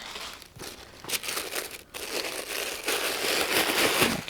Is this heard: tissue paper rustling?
yes